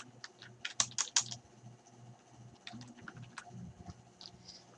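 Fast typing on a computer keyboard, with a quick cluster of loud key clacks followed by lighter, scattered taps, close and without speech.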